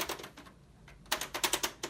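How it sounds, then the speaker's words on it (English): Keys on an old Brother word processor clack in quick bursts as each one is tested: a scattered run of taps, a brief lull, then a sharper rapid series of loud, close strikes, with no talking. "I'm gonna just test all the keys."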